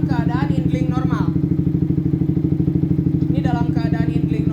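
A Yamaha R15 V3 motorcycle fitted with an R9 H2 series exhaust idles steadily nearby with an even, rapid pulsing throb, while someone talks over it at the start and end.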